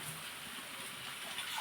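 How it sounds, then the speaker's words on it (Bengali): Water poured into a pan of fish curry spice paste makes a steady, close gushing splash that runs without pause from start to finish, with no voices. "এখন জল দিয়ে দেবো।"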